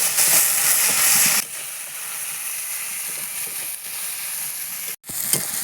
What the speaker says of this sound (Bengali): যে পেঁয়াজটা আমি একটু লাল লাল করে ভেজে নেব